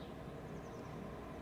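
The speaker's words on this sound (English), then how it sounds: "This one's just street noise." Street noise ambient sample: a faint, steady background wash of distant traffic rumble, continuous and even with no distinct events.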